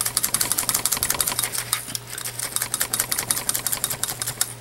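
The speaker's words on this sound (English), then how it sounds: "So you're going to needle punch that right to the body of your ladybug." Felting needle repeatedly punching wool roving into the body of a wool ladybug figure, a rapid steady stabbing rhythm close up, heard alone over a low constant hum.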